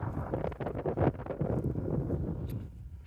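Wind gusts roar against the microphone during a snowy December blizzard, a loud, continuous buffeting rumble that eases slightly toward the end.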